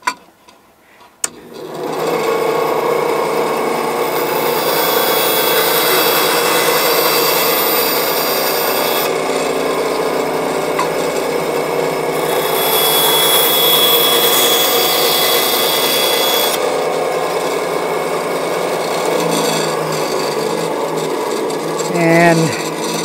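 Power saw trimming the ends of American-style construction logs along a marked line at a gable end, a steady loud buzzing cut running nearly continuously after a brief start, with no talk over it.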